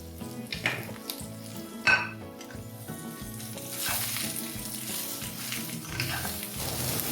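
Shredded cabbage and other vegetables for chicken chowmein stir-fry in a pan, giving a steady close sizzle with scraping stirs and one sharp clink, while background music plays throughout.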